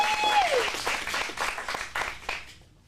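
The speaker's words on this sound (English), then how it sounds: "let's give a big round of applause for our next step." A theatre audience at an acting-studio showcase gives a round of applause, a swelling burst of clapping that fades out after a few seconds, with a brief whistle near the start.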